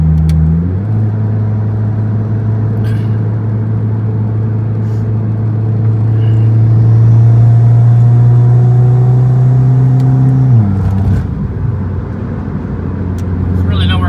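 A car fitted with a DIY intake and a Go Fast Bits DV+ diverter valve climbs a steep grade, its engine droning loudly and steadily from inside the cabin, then easing off near the end with a brief shift in tone.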